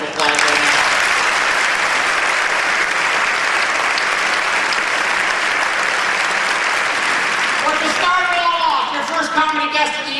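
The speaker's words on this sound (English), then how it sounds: "Please give them a round of applause right now." Loud, full applause from a comedy club crowd, continuous and dense, tapering near the end as a voice starts speaking over it.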